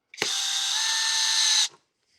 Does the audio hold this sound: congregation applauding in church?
no